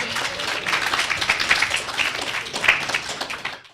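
Audience applause fills a hall at an author series talk, a dense, steady patter of many hands clapping close and loud for nearly four seconds before trailing off at the end.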